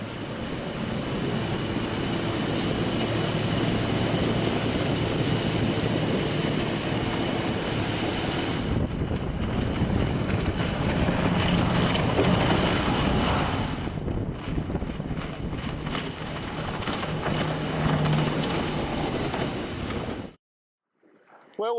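A 19-foot plate-aluminium motorboat's engine drones steadily offshore beneath heavy wind buffeting and splashing water, then cuts off abruptly near the end.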